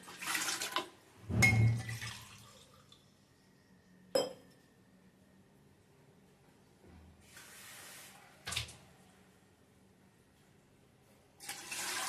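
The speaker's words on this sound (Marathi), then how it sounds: "आता कुकरमध्ये खाली मी 2 ग्लास पाणी घालणार आहे." Water is poured from a glass into a pressure cooker in a quiet kitchen, heard as a few short splashing rushes with light metallic clinks between them and near silence in the gaps.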